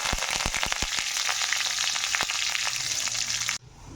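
Toor dal and curry leaves frying in hot oil, a dense crackling sizzle with sharp pops early on that cuts off abruptly near the end, leaving a softer hiss.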